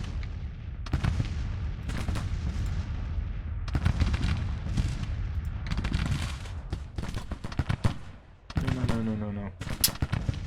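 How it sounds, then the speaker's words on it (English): Civil War artillery batteries fire in the Grand Tactician strategy game at the battle of Clarksburg, repeated heavy booms and crackling volleys layered densely over a rumbling battlefield backdrop, with a voice heard near the end. "there's a battery firing at them here"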